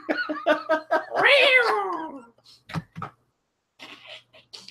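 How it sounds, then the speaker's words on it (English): A cat gives several meows and a long, drawn-out caterwaul, loud and close. A few quieter sounds follow after a pause. "That's supposed to be a cat, not a furry hippopotamus."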